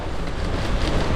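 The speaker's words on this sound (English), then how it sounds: "It's really windy up here." Steady broadband wind rush buffeting the microphone while cycling at night, a constant roar with no pauses and no voices.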